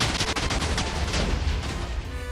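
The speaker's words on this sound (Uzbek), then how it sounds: "Hali ham portlayotgan ekan." A rapid chain of in-game TNT explosions tears through a city, with booms and crackling blasts overlapping in a loud, continuous barrage.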